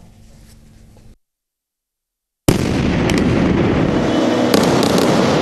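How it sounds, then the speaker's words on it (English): Explosions from Israeli airstrikes pounding buildings in Gaza at night: after a brief quiet gap, a loud, sustained blast-like roar with sharp cracks rolls on without pause, and no voices are heard. "A sleepless night in Gaza, with dozens of Israeli airstrikes pounding buildings said to belong to the Strip's militant rulers, Hamas."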